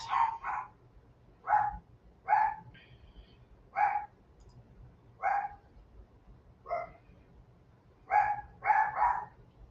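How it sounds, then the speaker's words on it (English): A dog barks repeatedly at a possum in a home yard, sharp, fairly close barks coming in short bursts of one to three with brief pauses between them across the whole stretch. "There goes my dog again."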